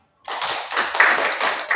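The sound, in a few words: class applause for a group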